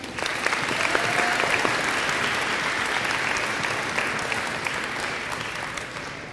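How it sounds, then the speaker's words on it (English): Audience at a school spring sports awards ceremony breaking into sustained clapping, a dense indoor round of applause that swells and slowly tapers over several seconds. "Let's give him one more round of applause."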